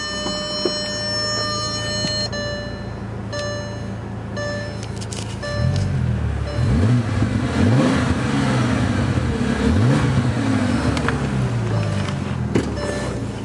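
The 6-liter twin-turbo W12 of a 2006 Bentley Continental GT, rated at 552 hp, idles with a low hum, then revs repeatedly in loud, close, rising and falling bursts.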